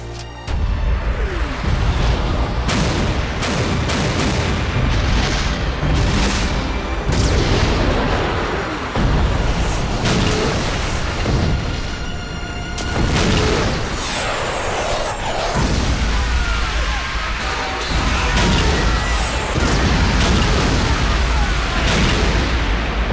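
Anime airstrike bombardment on a city, with a long run of heavy booming explosions and sharp blasts rolling continuously, loud and dense, with some rumbling debris between hits.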